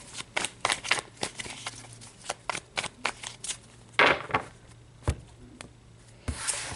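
Tarot cards are shuffled in quick riffling bursts and soft slaps, close up, with short pauses between handfuls and no talking.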